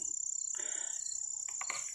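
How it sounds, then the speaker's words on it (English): A steady, high-pitched cricket trill runs throughout at night outside a former sanitarium in Rutland, Massachusetts, with a couple of brief, faint chirps and rustles toward the end. "you can hear the crickets"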